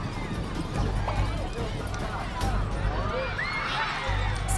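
Sumba horses gallop during a pasola mounted contest, their hooves thudding in loose, overlapping beats under a busy crowd and a spoken voice, with an occasional whinny.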